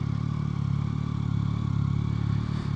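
A 2024 Yamaha MT-09 Y-AMT engine runs steadily and close by, holding a low, even drone with rhythmic mechanical clatter throughout, and a slight bump in revs near the end as the throttle is opened.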